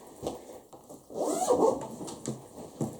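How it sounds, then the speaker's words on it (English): A Nomatic backpack zipper slides in a short smooth pull, with a few small rustles and clicks before and after, close and fairly quiet. "Again, the zipper slide pretty smooth."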